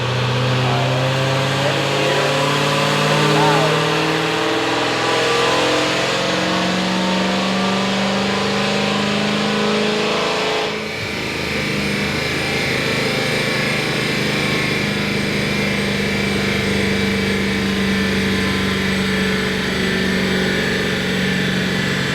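A Dodge Hellcat engine runs on a dyno with a loud, continuous mechanical roar that holds steady for the whole stretch, with one brief dip midway, and no voices over it.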